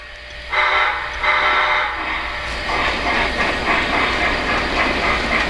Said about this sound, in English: Let's give it a little shot of steam and head out.